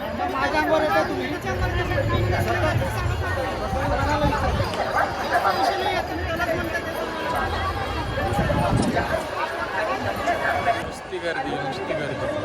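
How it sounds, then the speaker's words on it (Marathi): A dense crowd of pilgrims on the Ashadhi Wari procession toward Tukaram Maharaj's palkhi fills the air with overlapping chatter and babble, close voices and occasional laughter blending into a steady hubbub. "नुसती गर्दी."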